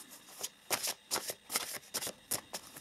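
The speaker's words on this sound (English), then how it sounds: "Let us also pull some uh, conscious spirit cards." Spirit oracle cards being shuffled by hand, a series of about eight crisp riffling bursts in a steady rhythm, close and fairly quiet, with no talking.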